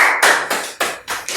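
Five or six sharp hand claps in an uneven rhythm, close and loud, each one a bright broadband burst with a short decay, in a podcast studio.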